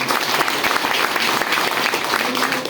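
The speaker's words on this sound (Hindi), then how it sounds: "एक जोरदार ताली" An audience at a company gathering breaks into loud applause, a thick, continuous wash of many hands clapping together that holds steady from start to finish.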